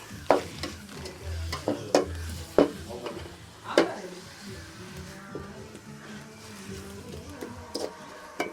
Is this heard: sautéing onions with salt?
yes